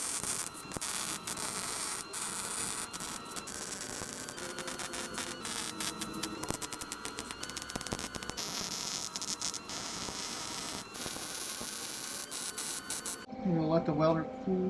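Small hobby welder stitching a steel exhaust pipe on a 1986 Chevrolet C10 squarebody with an LS swap, a steady buzzing crackle with intermittent pops and clicks running for most of the clip, cutting off near the end.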